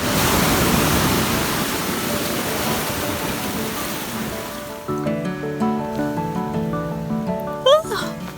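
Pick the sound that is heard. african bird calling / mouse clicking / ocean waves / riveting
ocean waves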